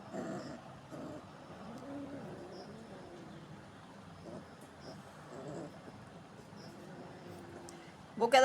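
A pet dog named Tommy growls in low, faint rumbles at close range in a quiet room, with soft voices around it and a louder burst at the very end.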